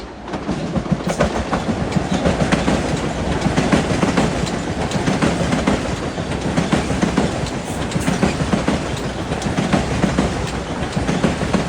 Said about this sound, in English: approaching at 4:08 is train 770, Croton-Harmon to Grand Central, with M3s.